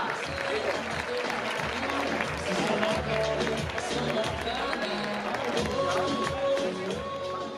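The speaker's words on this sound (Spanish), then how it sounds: "Ese fuerte aplauso para estos 4 valientes." A crowd at a traditional summer 2018 vaquillas bull festival in Piornal applauds the four recortadores. The applause is loud, dense and continuous for the whole stretch, mixed with crowd voices.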